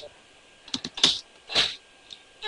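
Computer keyboard keys are pressed during Minecraft play in a quick burst of clicky taps followed by a couple of heavier, longer presses, close and distinct.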